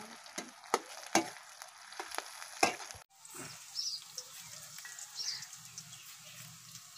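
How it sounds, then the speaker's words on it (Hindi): Onions for a village-style fish curry frying in a pan: soft crackling sizzle with a few sharp clicks early on, then a quieter steady hiss with faint chirps in the background. "प्याज अच्छी तरह लाल करेंगे, उसको लाल करके तब इसमें मसाला डाल के भूजेंगे"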